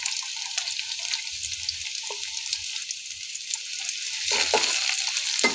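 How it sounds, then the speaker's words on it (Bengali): Chopped carrots, onions and green chillies frying in hot oil, a steady close sizzle with scraping stir strokes from a spatula throughout, growing louder near the end. "এগুলো আমি নাড়াচাড়া করে নেব তেলের মধ্যে।"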